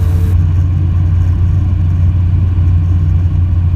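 A light airplane engine throttled back to total idle while the aircraft glides during an introductory flight lesson, a steady, loud, low droning hum heard from inside the cabin, unchanging throughout with no voices.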